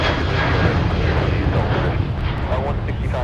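A Primera Air jet departs runway 30 left at Minneapolis–St. Paul airport, its engines making a loud, steady broadband roar throughout with some faint voice underneath.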